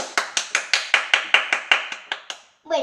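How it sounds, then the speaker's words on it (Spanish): About a dozen evenly spaced, sharp claps ring out near and loud, steady in rhythm, welcoming a special guest in a home craft session, ending with a short voice. "Un fuerte aplauso"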